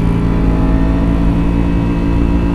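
A Benelli motorcycle engine runs loud and close, a deep, booming steady drone with a throaty hum that holds even throughout, no voices over it.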